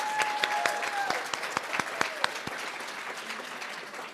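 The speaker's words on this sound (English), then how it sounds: "Let's give our undergraduate speech pathology students a round of applause." Fairly quiet applause from the audience at a spring speech pathology hooding and pinning ceremony, a soft spread of clapping with a few sharper nearby claps standing out over it.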